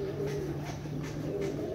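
Pakistani pigeons coo softly in a low, steady murmur, faint and fairly close, with a few rising calls over light room noise and no talk.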